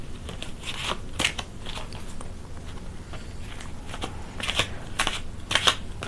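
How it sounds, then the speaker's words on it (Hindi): Tarot cards being shuffled by hand: soft, close riffling and sliding bursts come in irregular clusters over a quiet room hum, with no talking. "I'm shuffling the cards."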